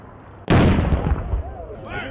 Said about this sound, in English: Festival goers also have the opportunity to see a Civil War reenactment with live musket and cannon fire.